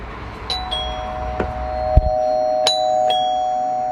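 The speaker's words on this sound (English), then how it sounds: "Ring the doorbell." A smart doorbell chime plays a short electronic melody of several bright tones, clear and close, with a faint click before the final notes.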